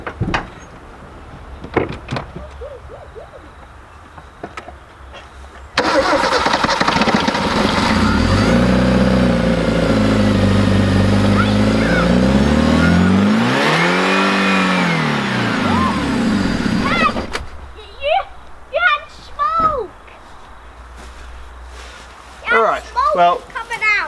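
An old vehicle with a stuck throttle cable fires up and roars at high, steady revs for several seconds, rising and falling in pitch before cutting back to idle, with people talking before and after.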